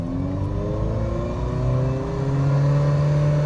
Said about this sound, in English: listen to that engine. That is just Italian music at its finest